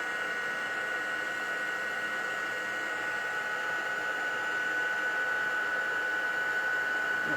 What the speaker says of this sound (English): So heat gun coming up, bear with.